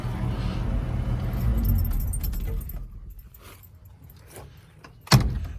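Keys jangle near an old Chevrolet, a 1998 Omega CD, over a low engine rumble that fades, followed by a sharp thump near the end.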